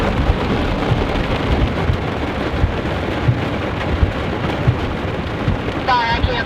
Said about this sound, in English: I thought, yeah, the rain's tapering off.